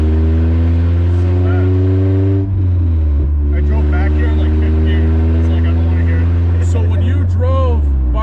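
A Honda Civic del Sol with a Tanabe Medallion exhaust drones loudly and steadily at close range, with a strong low tonal rumble that dips briefly midway and then carries on under the voices of people talking.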